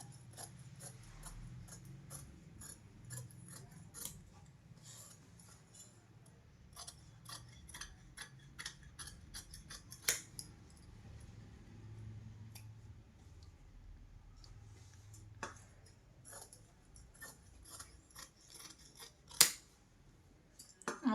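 Scissors snipping lining fabric for a princess-cut blouse, with quiet, irregular crisp clicks and cuts, several close together and a few louder snaps, in a hushed room.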